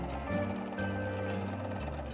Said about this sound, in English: Sew your seam.